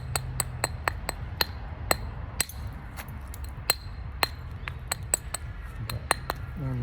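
Flint knapping on a Solutrean biface: a close series of sharp, glassy clicks at an irregular pace as small flakes are struck off to raise the platform edge.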